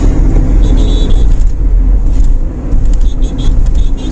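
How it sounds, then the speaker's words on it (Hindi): Heavy long-weekend road traffic in Maharashtra, heard as a constant low rumble of passing cars with engine whir, loud and close throughout, beneath a voice talking. "और अभी आप देखो ट्रैफिक, देखो सामने भयंकर ट्रैफिक है।"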